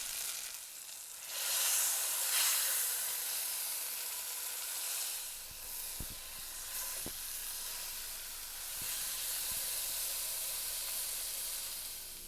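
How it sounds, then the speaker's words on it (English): A beef roast sears in olive oil in a cast iron skillet, a steady loud sizzle that flares as the meat hits the pan, with a few soft knocks and scrapes as it is moved. "I'm going to place my roast and I'm going to sear this on each side a few minutes until it's nice and browned"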